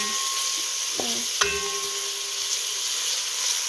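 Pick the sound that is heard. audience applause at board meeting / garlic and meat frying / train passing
garlic and meat frying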